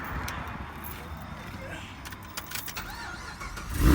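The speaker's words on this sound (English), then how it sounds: "Let's see if we can get it started and get it out the road." A car that has just been crashed into is started, the engine catching and rising near the end after a stretch of low rumble and a few clinks, close by, with a voice talking over it.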